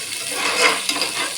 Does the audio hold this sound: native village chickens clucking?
no